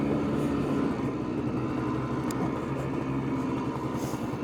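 Three-wheeler with Yamaha-style front forks and a hand-rigged throttle, its engine running steadily while being driven, a close, loud, continuous drone with a low buzzing pulse and no talking.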